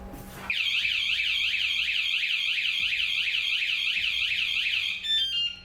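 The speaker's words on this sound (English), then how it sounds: "it'll just set off a brief alarm" A bike alarm blares outdoors, a loud continuous warbling electronic siren that starts abruptly and holds steady for about five seconds before cutting off.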